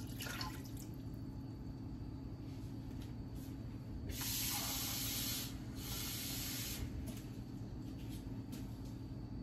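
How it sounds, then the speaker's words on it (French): A glass of water is poured onto meat in a cooking pot for an okra and mushroom sauce, giving a soft steady splashing hiss that swells louder for about two seconds in the middle, with no talk. "je vais rajouter un verre d'eau"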